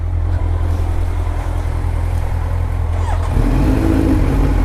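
A Kawasaki Z900 fitted with an Arrow Pro Race titanium exhaust, loud and close, holding a rumbling idle before the engine note rises in a rev near the end.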